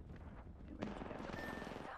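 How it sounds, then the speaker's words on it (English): Enemy gunfire in the video game Apex Legends, a dense, loud burst of rapid shots and booming impacts rolling over about two seconds. "The enemies are shooting at me."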